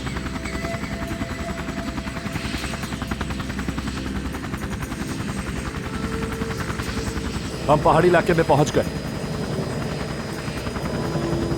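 A helicopter flying over hilly terrain gives a steady, loud rotor thrum throughout, with a brief burst of thumping near the end, while someone speaks over it.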